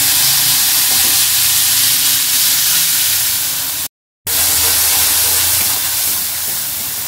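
Ginger and green chili paste fries loudly in hot oil spiced with Kashmiri chili powder, a dense close-up hiss and crackle that runs continuously apart from one brief gap in the middle.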